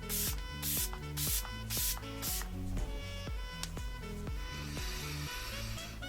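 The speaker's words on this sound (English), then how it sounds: "I would definitely recommend spraying it closer to the face" A facial mist spray bottle gives several quick, close pumped sprays in the first seconds, each a short breathy hiss over steady rhythmic background music.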